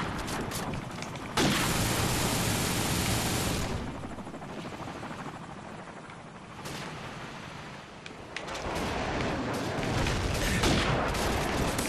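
Rapid gunfire and explosive bursts in Call of Duty 4 free-for-all on the Backlot map, a dense, continuous barrage with sharp bursts throughout, loud and close with a steady roar underneath.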